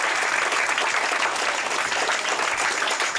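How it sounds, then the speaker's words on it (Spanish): A congregation at a church vigil bursts into loud, dense applause for the Lord, a continuous roar of many clapping hands sustained without pause across the whole stretch. "Denle ese aplauso al Señor en esta hora, si puede"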